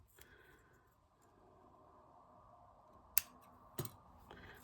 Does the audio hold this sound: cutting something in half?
yes